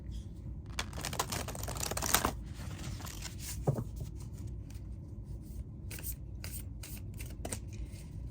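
Green Witch oracle cards are shuffled close by, a continuous soft riffling and flapping with a few sharper snaps, fairly quiet and without speech.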